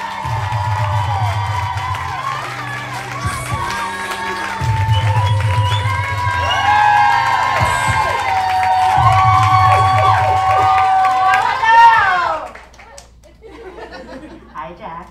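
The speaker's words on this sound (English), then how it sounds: "Can we clap it up for Nazbah?" A live audience at a queer diaspora storytelling event claps and cheers loudly for a long stretch, with whoops and shouts over the steady clapping, before it dies away abruptly into quieter talk.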